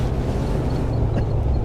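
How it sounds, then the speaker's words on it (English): Exhaust of a 1984 Dodge Ramcharger truck climbing a mountain, a low steady rumble close by, continuous and fairly loud. "Can you guys hear that exhaust, huh?"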